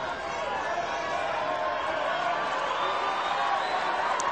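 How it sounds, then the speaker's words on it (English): Tennis spectators at a final in Auckland make a steady, continuous roar of crowd noise, cheering and calling out in support of an 18-year-old player, with no break in the sound. "Crowd doing all they can to try and get behind the 18-year-olds."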